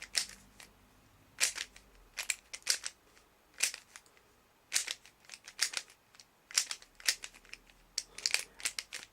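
A DaYan GuHong version 1 speedcube turned by hand gives a series of sharp, close plastic clicks and clacks in irregular bursts with short pauses, with no talking.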